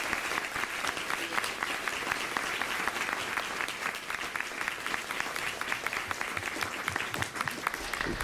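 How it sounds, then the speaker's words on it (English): An audience at a literary reading event applauds its contributors, sustained crisp clapping from many hands with distinct individual claps audible in the steady roar. "I think we have one round of applause again for our contributors"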